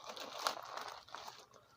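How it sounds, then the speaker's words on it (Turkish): Plastic packaging for a live millipede shipment crinkles and rustles as a cheap fruit knife cuts into it. The sound is close and quiet, in small scratchy bursts with no talking. "Şimdi dilerseniz paketimizi açalım."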